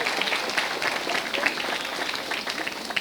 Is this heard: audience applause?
yes